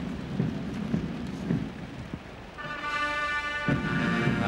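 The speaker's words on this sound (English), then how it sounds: "It's absolutely teeming down with rain now, as you can see." Heavy rain pours down at Horse Guards during Trooping the Colour 2001, a dense and steady hiss with a few heavier drops, and a military band begins playing partway through under the downpour.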